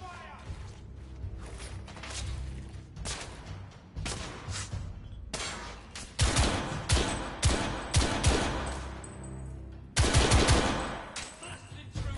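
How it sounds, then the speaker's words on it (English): Rapid bursts of gunfire in the video game The Order: 1886, with machine-gun rattles and single shots coming in loud waves from a tunnel over continuous background noise and voices. "Gunfire was coming from that tunnel."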